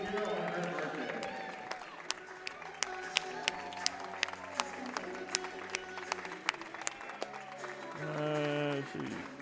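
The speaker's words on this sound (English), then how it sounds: "We're going to do a nice round of applause for Jeannie Hero on her birthday." Scattered clapping at a high school boys' basketball game rings through a gym. The claps are sharp and uneven over a low crowd murmur, and a voice talks through part of it.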